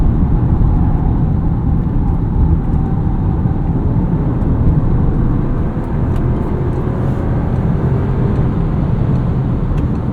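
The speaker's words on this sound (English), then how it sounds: "A little bit of wind noise here at speed. A little bit of tire noise." Steady wind rush and tire roar inside a 2026 Audi Q3 S Line Quattro at speed, a continuous, even cabin drone with no voices.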